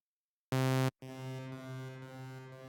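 A sustained synth tone cuts off, then a second held tone rings out with a wide, washy reverberant tail spreading through the space.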